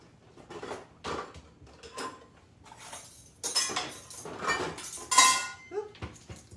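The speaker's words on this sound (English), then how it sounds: "Let me get my measuring spoon out." Metal utensils clink and rattle as a measuring spoon is dug out from among them, with several bursts of jangling cutlery at close range, louder toward the end, separated by brief pauses.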